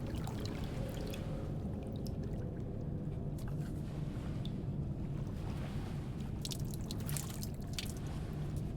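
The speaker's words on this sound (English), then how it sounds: "Statue's peeing." Water trickling from a statue fountain in the video game Silent Hill f: a steady, soft rushing flow with scattered drips and splashes, continuous and fairly faint.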